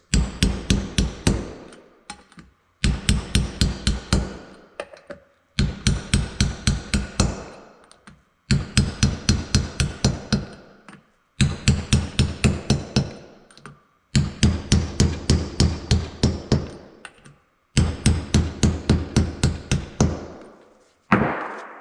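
Rapid series of metallic hammer taps in seven separate bursts, each a quick run of sharp strikes followed by a short pause, as parts are hammered into a 5.3 LC9 engine cylinder head during assembly.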